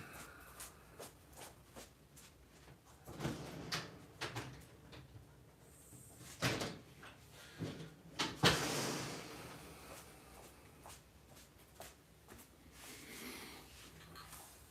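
A door is opened and closed indoors, giving a few scattered thumps and clicks with one louder bang about midway through, against a quiet room background.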